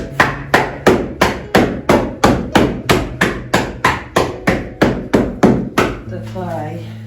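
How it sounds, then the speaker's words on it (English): Clay slab for a pottery saggar repeatedly dropped onto a work surface to flatten it under its own weight, about sixteen evenly spaced dull thuds in a steady rhythm, followed by a brief quiet hum. "you're kind of letting it drop, so the weight of it is actually flattening"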